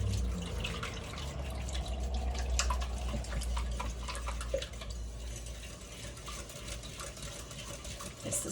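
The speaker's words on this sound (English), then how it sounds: "So I've got all the eggs in here. We're gonna whisk them together." Eggs whisked together in a bowl for bread pudding, a quiet stretch of quick, steady clicking and tapping against the bowl with no one talking.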